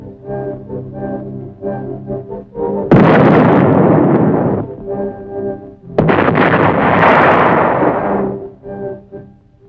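Two loud, sustained booming barrages of field artillery fire at Fort Sill, each lasting a couple of seconds, rolling in over a low rumble during a mission against infantry in trenches.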